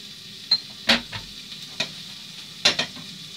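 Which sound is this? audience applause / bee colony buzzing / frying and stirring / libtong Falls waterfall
frying and stirring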